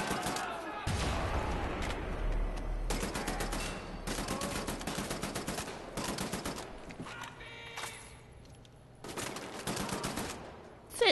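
Enemy gunfire in Wolfenstein: The New Order rattles in repeated loud bursts of automatic fire across the whole stretch, with someone talking over it at points.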